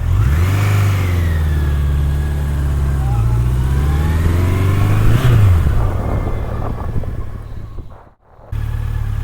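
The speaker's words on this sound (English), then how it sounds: "Just has that Honda purr to it, back from the old 750 days." A Honda CB1100 Deluxe motorcycle engine runs steadily at close range with a smooth, low, even tone and a brief rev around the middle. A voice speaks over it.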